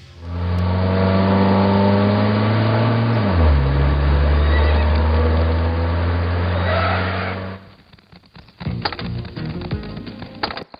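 Horses neigh loudly in a dramatic film scene, a long sustained whinny that drops in pitch midway, followed after a pause by scattered clatter and movement.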